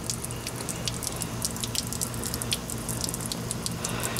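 Water drips and trickles steadily inside a Jeep Wrangler YJ leaking into the floorboard, a dense patter of close droplets over a constant low hum.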